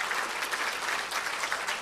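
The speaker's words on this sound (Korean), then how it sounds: "박수로 좀 환영해 주시기 바랍니다." An audience at an anniversary ceremony for the October 4 inter-Korean summit declaration claps steadily to welcome a guest, a dense, even round of applause filling the room with no talking.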